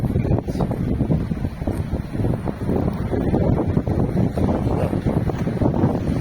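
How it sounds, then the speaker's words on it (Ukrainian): Strong, steady winter wind buffets the microphone with a loud, continuous rumbling roar and gusty surges throughout. "вітер підняв"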